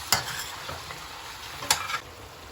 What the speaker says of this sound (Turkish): Kavrulan kıymamızın üzerine sultane bezelyemizi koyup kavuracağız.